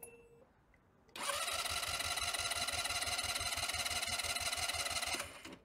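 Sym Jet 14 fuel-injected scooter engine cranking on the starter during a compression test, a loud steady whirring drone with rapid regular pulsing that runs for about four seconds, then cuts off.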